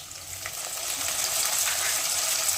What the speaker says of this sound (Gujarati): ડુંગળીને આપણે સરસ શેકાઈ જવા દઈશું